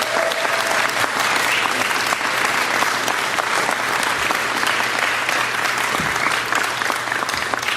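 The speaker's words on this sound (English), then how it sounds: "Let's give them a big round of applause." A crowd at a live Conservative political rally breaks into loud, sustained applause, a dense wall of clapping that holds steady throughout with no voices standing out.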